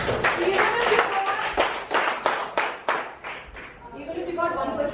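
Dance workshop participants clap for themselves after a leg-switching routine, a burst of scattered handclaps over crowd chatter and voices, tapering off.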